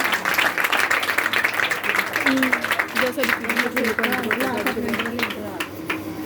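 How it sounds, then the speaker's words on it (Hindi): Applause from a church congregation, steady clapping that fades slightly toward the end, with a voice and some background sound mixed in. "इनके लिए भरपूर तालियां बजाएं"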